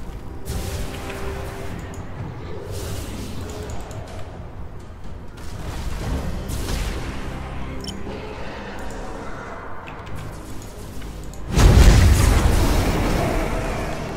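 Spore field launch in a Warhammer 40,000 Tyranids video game: low rumbling whooshes build up, then one heavy, loud boom hits near the end and slowly fades.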